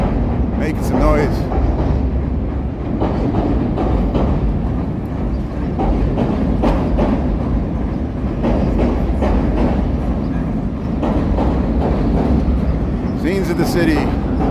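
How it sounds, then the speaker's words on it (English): A Chicago L Brown Line elevated train rumbles along in the Loop near Wells Street on a city walk. A steady, loud, rolling roar fills the whole stretch, with scattered metallic clatter over it. "The rumble of the L train."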